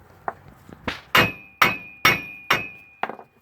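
A hammer strikes a van's brake rotor to loosen it, about seven sharp metallic blows with a ringing tone, loud and close, the later hits coming in a steady rhythm.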